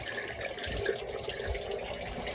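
Water from a small pump runs steadily up a hose and through the tubes of a home hydroponic setup, a faint, even trickle and gurgle that continues without a break.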